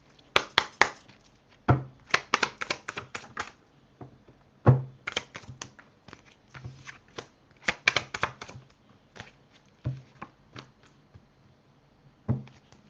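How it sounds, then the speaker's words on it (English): A deck of tarot cards being shuffled at close range: bursts of crisp riffling and flicking in irregular clusters, separated by soft taps as the stack is squared, with short quiet gaps between. "You heard me shuffle this deck, and I keep getting the same card."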